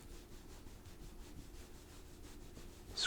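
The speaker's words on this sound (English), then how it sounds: "It's nice to just have a good scratch every once in a while." Steady soft scratching and rubbing strokes, close and quiet, repeating in a gentle rhythm throughout an ASMR chiropractor roleplay treating a Pokémon, with no voice over it.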